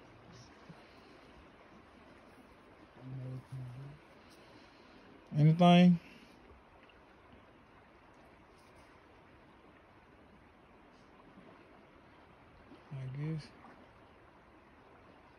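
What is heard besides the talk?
running water of a stream at Stuckey's Bridge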